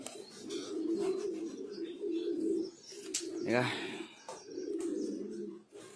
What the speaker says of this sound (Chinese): 这只鸽子受伤了